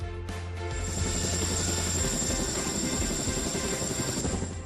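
Indian Air Force Chinook twin-rotor helicopter flying nearby, a loud steady rotor drone with low throbbing blade beats and a high turbine whine, continuous and alone.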